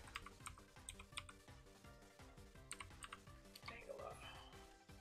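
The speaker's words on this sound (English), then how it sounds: "Oh, I'm typing." Rapid keystrokes clatter on a computer keyboard in quick uneven bursts, close and fairly quiet, with a brief soft voice near the end.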